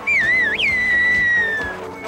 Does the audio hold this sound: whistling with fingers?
yes